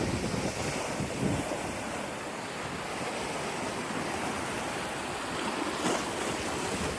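Ocean waves wash steadily onto the rocky shelf of Corito Bay beach, a constant loud roar of surf mixed with wind buffeting the microphone and no voices.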